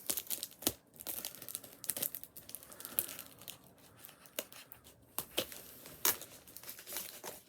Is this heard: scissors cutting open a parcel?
yes